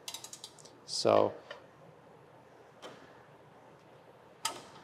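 Ratchet loosening bolts on a three-piece wheel during a rebuild: a burst of quick metallic clicks, then a few scattered clicks and one sharp click near the end, with a brief spoken word.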